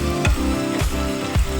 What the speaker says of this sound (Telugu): వేడయ్యాక ఉల్లిపాయలు వేసుకోవాలి. దాల్చిన చెక్క, లవంగాలు వేసుకోవడం వల్ల ఫ్లేవర్ బాగా వస్తుంది.